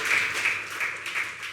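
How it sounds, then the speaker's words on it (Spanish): A church congregation applauding, a short burst of steady clapping of moderate loudness. "Denle un aplauso al Señor por eso"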